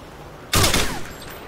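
FAMAS rifle gunfire in a multiplayer video game: a single short burst of rapid, loud shots lasting about half a second, followed by a fading tail over a quiet background.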